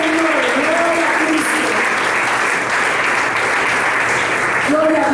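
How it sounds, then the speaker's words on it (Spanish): A church congregation at a Pentecostal evangelical service breaks into loud, sustained applause, a dense wash of clapping filling the room while a voice rises over it near the start and end. "Denle un fuerte aplauso a él."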